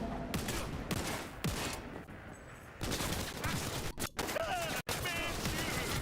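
Gunfire in the video game Cyberpunk 2077, a fast fusillade of shots in a dense, loud mix with sharp breaks, and a voice briefly heard in the action.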